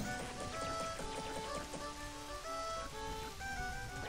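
Steady rainfall in the video game The Legend of Zelda: Majora's Mask, a continuous patter and hiss under soft tonal game music, with no talking.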